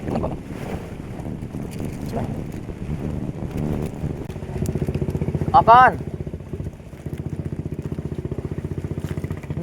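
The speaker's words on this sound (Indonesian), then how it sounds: "Nyorin perahu yang lewat." A passing boat's engine drones on water beneath outdoor wind noise, rising in the middle and holding steady to the end, with people talking throughout over it.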